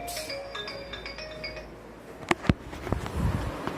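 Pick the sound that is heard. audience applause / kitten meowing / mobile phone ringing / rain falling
mobile phone ringing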